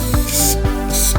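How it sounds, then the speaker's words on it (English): An old spray paint can hisses in steady bursts onto a hat being customized with graffiti, loud and close, with brief pauses between sprays. "I've just got some spray paint here and I'm just going to do like a graffiti spray hat"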